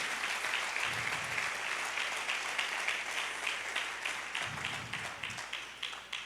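A church congregation applauding at a sermon, a dense continuous crackle of many hands clapping that holds steady, then thins slightly toward the end, with a faint low voice murmuring beneath.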